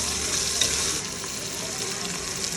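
Vegetables and green chili roast in a hot pan for pav bhaji, giving a steady, close sizzle with soft stirring scrapes and no talk.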